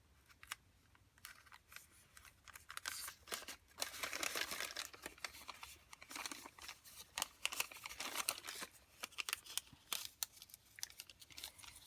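Travel receipts and maps are crinkled and folded into paper ruffles, giving close, quiet bursts of rustling and crumpling paper with snipping clicks.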